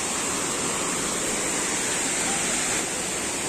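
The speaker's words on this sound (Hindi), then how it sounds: "ये रहा वाटरफॉल" Maludah waterfall in Chatra pouring over rocks, a steady, dense roar of rushing water that holds constant and close throughout, with no talk over it.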